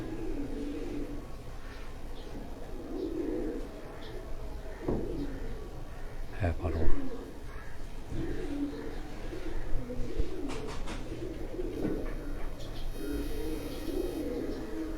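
Pigeons coo softly and repeatedly on a rooftop breeding setup in Jalalpur Bhattian, layered low and continuous with a few sharper bird calls, while someone talks intermittently nearby.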